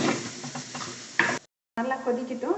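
Idli sambar in a pot being stirred and simmering, a wet bubbling and scraping texture close up, cut by a brief silent gap before resuming.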